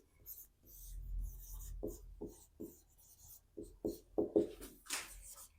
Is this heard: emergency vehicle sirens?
no